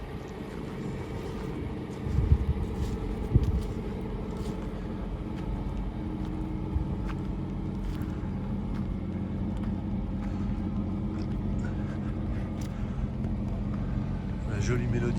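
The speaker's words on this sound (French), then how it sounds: "jolie mélodie moteur." A March 1973 Jaguar XJ12 Series 1 V12 idles with a steady low rumble, heard at close range over wind noise, with a couple of louder bumps early on and a voice talking over it.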